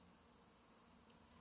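A faint, continuous high drone of crickets fills the background, quiet and steady with no other sounds.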